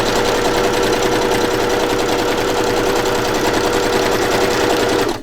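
A sewing machine runs steadily and loudly for about five seconds, stitching along the bottom edge of a paper journal made from an altered book, with a continuous close, buzzing hum that stops abruptly at the end.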